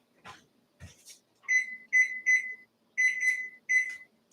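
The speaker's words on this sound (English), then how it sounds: "And set my timer." Kitchen timer being set while baking, a run of high electronic beeps in short groups, close and clear, after a couple of soft handling noises.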